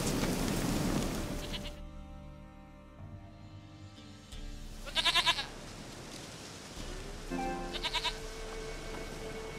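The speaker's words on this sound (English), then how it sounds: "Goat of mine, dearest, sweetest goat." A goat bleats twice inside The Witcher 3: Wild Hunt on PS4: two short, loud, quavering calls a few seconds apart over a quiet, steady game ambience.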